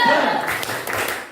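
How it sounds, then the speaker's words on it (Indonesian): A group claps a rhythmic 'tepuk semangat' cheer in a classroom before a mathematics lesson, quick close claps overlapping with voices throughout the short burst. "Ayo kita tepuk semangat dulu."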